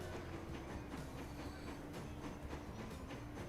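A passenger train running in the Transport Fever game, a steady, faint rumble with rhythmic clickety-clack of wheels over rail joints.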